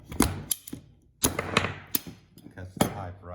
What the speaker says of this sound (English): So I put my pipe in there and I start clamping down.